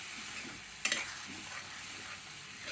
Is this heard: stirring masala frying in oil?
yes